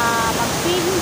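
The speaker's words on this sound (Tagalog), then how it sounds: "hindi nakakatakot yung lakas ng kanyang agos" A shallow, clear river current flows with a dense, steady rush of water, loud and close, while a voice speaks over it.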